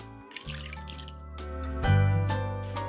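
Milk pours softly into a bowl for an oven-fried chicken drumstick recipe, making a gentle liquid stream whose pitch rises as the bowl fills, with a few small splashes.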